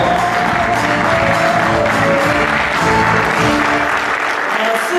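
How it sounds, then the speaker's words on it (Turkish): Sustained, loud applause from a conference audience in Malatya, a steady roar of many hands clapping throughout, with crowd murmur underneath. "Evet bir alkışla alalım"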